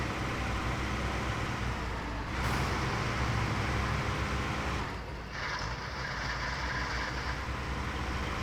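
A damaged truck in the Snowrunner video game drives along with a continuous, loud engine drone and rattling road noise, briefly shifting in tone twice as it goes, with no talking over it.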